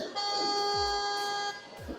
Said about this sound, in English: Who is honking the horn?